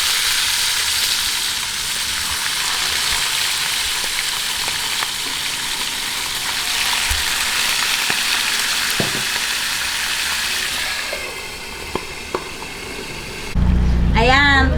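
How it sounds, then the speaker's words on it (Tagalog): Milkfish (bangus) fries in a pan with a steady, close hiss of sizzling oil and scattered pops, then a louder burst of sputtering near the end. "prituhin naman po natin yung ating bangus"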